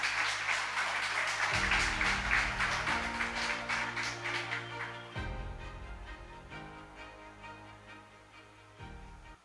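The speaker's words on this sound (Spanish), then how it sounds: "Un aplauso, por favor." Applause from the crowd at the SFM Magazines Awards 2023 ceremony for an honoree: a broad, even wash of clapping over background music that gradually thins out as the music carries on.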